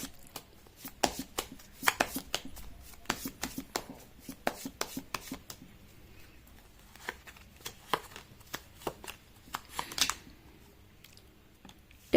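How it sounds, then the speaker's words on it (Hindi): Tarot cards are shuffled by hand up close: bursts of crisp, rapid clicking riffles and slaps in an irregular rhythm, with no one talking. "मैं कर लेती हूँ कार्ड की शफलिंग।"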